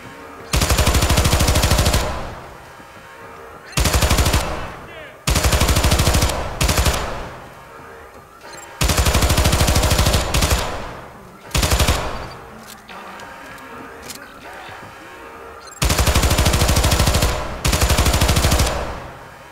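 Loud bursts of automatic gunfire in the Syndicate video game, coming in several sustained volleys separated by short gaps, up close and filling the soundscape.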